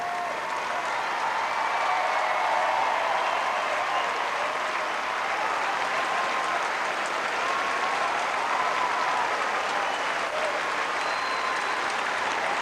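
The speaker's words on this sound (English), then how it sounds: "Ferreira's gone to great acclaim from the crowd" A tennis crowd at a 1994 match gives Ferreira sustained, even applause that rolls on unbroken for over twelve seconds, with a faint murmur of voices beneath the clapping.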